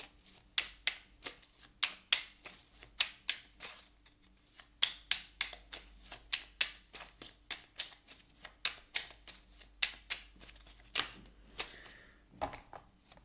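Oracle cards are shuffled and handled at close range, giving a quick run of crisp riffling snaps and papery slaps in an uneven rhythm, with no voices.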